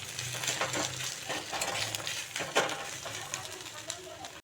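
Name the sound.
stirring boiled leaf paste with fried onions in pan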